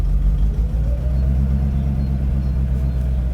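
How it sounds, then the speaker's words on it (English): The engine of a Mercedes-Benz R107 380SL runs with a deep, steady low rumble close by, its note shifting slightly as the transmission moves between park, drive and neutral, with no talking. "there's a bit of a note change there when I go between obviously park and drive and neutral"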